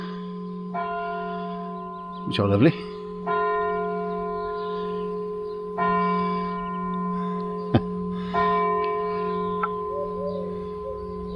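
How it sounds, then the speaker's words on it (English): Church bells ring steadily at 8 o'clock in Stoke Gabriel, Devon, with sustained, overlapping tones and periodic fresh strikes, while a voice speaks briefly and a bird calls faintly. "If you can hear me over the sound of the bells"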